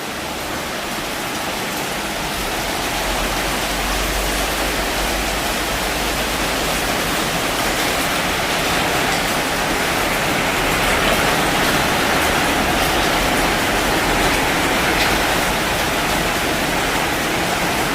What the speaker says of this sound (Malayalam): അപ്പം നമുക്ക് ഭയങ്കര മഴയാണ് കേട്ടോ